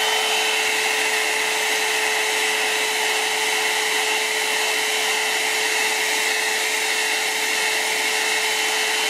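Heat gun blowing hot air to shrink thick heat-shrink tubing over relay wires, a loud, steady whooshing roar with a constant whine, unchanging throughout.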